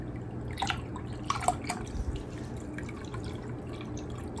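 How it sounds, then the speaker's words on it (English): Water circulating through a PC water cooling loop on an i9-14900KS build, driven by an 11.2 litre-per-minute pump; faint trickling and dripping over a low steady hum, with a few soft drips standing out early on. "So the water is flowing through it."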